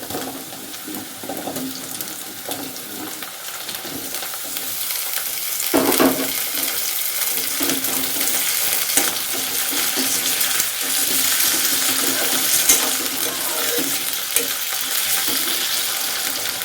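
Potatoes added to onions sizzle steadily in a pan for a broccoli and potato sabzi, with a dense, continuous frying hiss and occasional scraping stirs close by.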